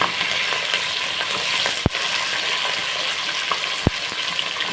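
Green chillies and onions fry in hot oil for chicken biryani, giving a steady loud sizzle, with two sharp utensil clicks against the pan partway through.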